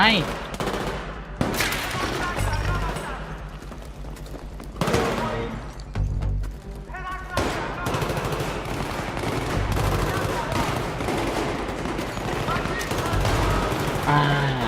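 Dense gunfire in the campaign of the video game Battlefield 3: continuous rattling automatic bursts and sharp shots layered over a steady loud backdrop of battle noise.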